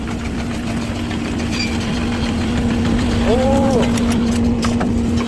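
Floor covering removal machine running steadily and rolling up stripped flooring, a low continuous mechanical hum with a brief rising whine partway through while people talk over it.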